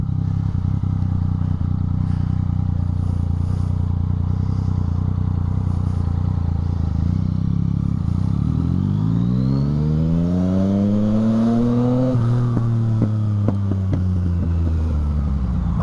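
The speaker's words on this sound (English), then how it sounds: "what's suddenly all the traffic?" Road traffic from a motorcycle ride: a steady engine drone and wind rush, then a revving engine rising through the gears with clear pitch sweeps, loud and close.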